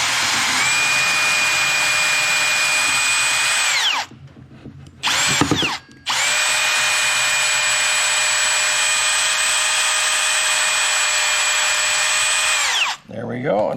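A power drill pre-drills a pilot hole into the center of a wooden dowel while a berry picking basket is being built. The steady whine runs about four seconds, breaks, gives a short burst, then whirs continuously for about seven seconds before stopping.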